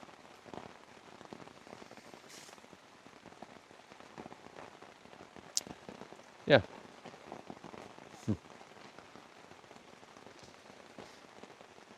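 Rain falls at night on Lake Superior as a soft, steady patter of scattered drops on a nearby surface. A few sharper taps stand out, and a brief word is spoken quietly.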